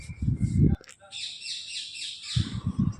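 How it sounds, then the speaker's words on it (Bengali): Birds chirp near a quiet Loknath Baba temple, with a short burst of bright, repeated tweets rising between two stretches of nearby talking. "আর কি সুন্দর পাখির শব্দ শোনা যাচ্ছে।"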